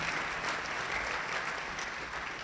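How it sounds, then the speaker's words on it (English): Steady applause from a student audience at a fall sports awards event, thanking the school board, even and continuous clapping heard from a moderate distance. "So give them a round of applause as well."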